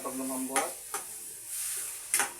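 Food in a pot seasoned with soy sauce bubbles and sizzles softly, broken by three or four sharp clinks of a utensil against the pot.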